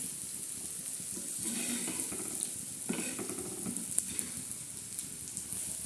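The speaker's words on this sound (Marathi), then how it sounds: "आता शेंगदाणे टाकून मस्तपैकी तळत आहोत" Peanuts fry in a dry pan with no water added, producing a soft, continuous sizzle with a few scraping stirs and occasional small crackles, fairly quiet and close.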